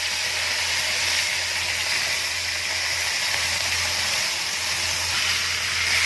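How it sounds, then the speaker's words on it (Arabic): Chicken pieces hit a pot over high heat, with cardamom and bay leaves, giving a loud, steady broadband sizzle that holds evenly throughout without pause. "هنزل بالفرخه بقى بسم الله، وبخلي النار عاليه"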